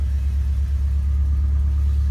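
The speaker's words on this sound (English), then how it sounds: "All right, so I'm gonna start it up." A 1962 Ford Galaxie engine runs with a low, steady rumble close by, the deep idle holding even for a couple of seconds without talk.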